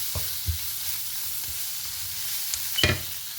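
Spices such as cumin and pepper powder are mixed in a pan for chicken tikka masala, with soft spoon taps and scrapes over a gentle, close sizzle.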